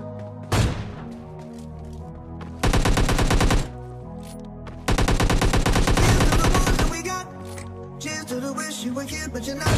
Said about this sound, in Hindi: मैंने सोच लिया था कि इसको AWM से ही मारूंगा मैं